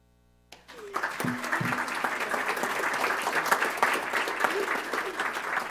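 Applause breaks out in a municipal council chamber after a poem is recited: near-silence, then a sudden onset of many hands clapping that swells and stays steady, with faint voices mixed in.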